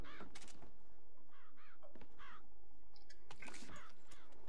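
Crows caw repeatedly in BioShock Infinite, harsh calls coming in bursts of two or three and fairly close, with game ambience continuing beneath them.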